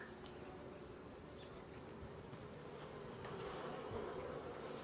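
A dense, steady hum of a honeybee swarm buzzing close by, continuous and fairly loud throughout.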